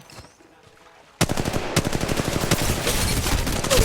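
A quiet moment breaks into loud, rapid automatic gunfire in Apex Legends Mobile, a steady fast stream of shots continuing to the end.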